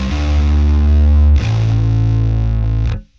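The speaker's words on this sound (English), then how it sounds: "Complete with lots of amp noise there." Scarbee Rickenbacker 4003 sampled bass on a crushing metal preset, heavily distorted with amp noise: two loud, sustained gritty notes, the second starting near the halfway point, then a quick cutoff.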